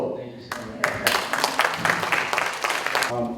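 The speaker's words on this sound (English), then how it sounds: "can we give a round of applause for Brennan?" A film discussion audience in Honolulu claps in a round of applause, a steady dense patter of many hands that builds after a brief quieter start and carries on throughout.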